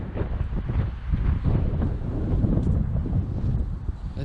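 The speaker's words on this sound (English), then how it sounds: "the wind, as you can probably tell, the wind is beginning to get up" Strong wind gusts across heathland common, buffeting loudly and continuously with low rumbling roar close to the microphone.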